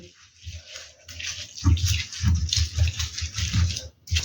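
Water is poured into a green chili and red chili spice paste as it is ground, giving a splashing trickle over rhythmic low scraping and thudding strokes, close by.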